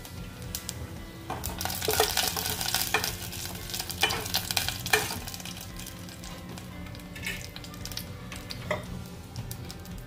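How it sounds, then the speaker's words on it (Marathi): Cumin seeds fry in hot oil with a steady, close sizzle and crackle, broken by sharp spoon clicks and scrapes against the pan as the seeds are stirred. "आता ह्याच तेलामध्ये जिरं घालते"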